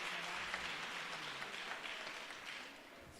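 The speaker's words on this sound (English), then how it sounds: "Can we give more applause for that?" An audience at a Free State provincial Women's Charter report-back meeting applauds with a soft, even patter of many hands, faint and distant throughout.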